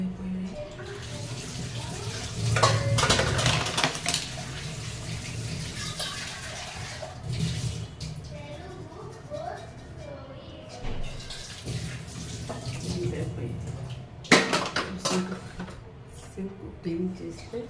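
Dishes and pots being washed in a kitchen sink: running water splashes steadily throughout, louder in stretches, with occasional clatter and some talk in the background.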